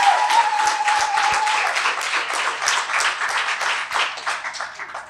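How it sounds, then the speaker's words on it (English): At a Women's Month fireside chat, the audience applauds the panelists with close, fairly loud clapping from a moderate crowd that swells briefly and then gradually tapers over about five seconds. "Can we give our panelists another round of applause"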